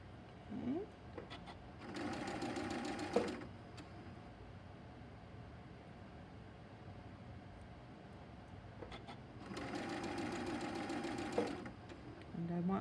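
A sewing machine stitches a quilt block seam with a quarter-inch allowance, running in two steady buzzing bursts of a second or more each. Soft talk comes between the bursts.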